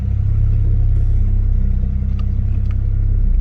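A BMW E38 750iL with its V12 engine runs steadily through a gear change, a deep continuous low rumble of engine and drivetrain throughout with a slight dip mid-way as the shift occurs, no voices present.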